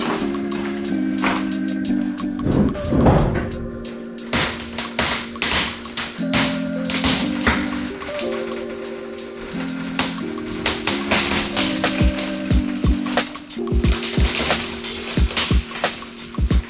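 Damaged windscreen glass on a Toyota Land Cruiser is tapped, cracked and broken out, giving irregular sharp knocks, crunches and tinkling glass fragments close up over a steady droning melodic background, with no talking.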